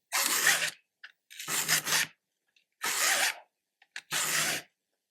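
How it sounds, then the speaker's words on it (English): A hand sharpener files the tooth and raker of a chainsaw chain in four short rasping strokes, each about half a second long, separated by brief pauses and a few faint clicks, close and alone. "sharpen that edge right there on the raker. And put a really razor sharp edge on that tooth."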